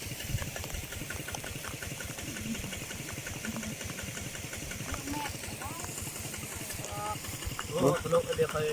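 A walking tractor's small engine idles with a steady rapid chugging close by during rice planting, continuing throughout while people talk over it.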